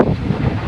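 Strong wind gusting across an open coal mining area near two villages, a loud continuous roaring rush close to the microphone with no voices.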